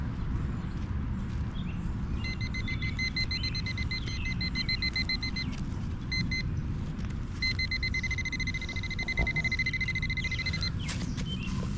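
A metal detector gives two runs of rapid, high, pulsed beeps outdoors at a burned hotel site, close and clear over a steady rushing background.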